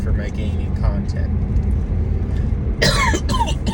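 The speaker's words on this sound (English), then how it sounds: "This cough, that's what I'm going to start with." A person coughs twice in quick bursts near the end, close and loud, after a stretch of low rumbling background with some faint voice-like sounds.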